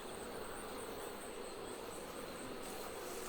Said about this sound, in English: There were some defensive guard bees out there in the apiary.